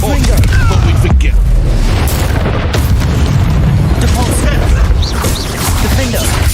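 Confringo spell blasts in Hogwarts Legacy, loud booming explosions and crashes packed together with barely a pause, with a voice talking underneath.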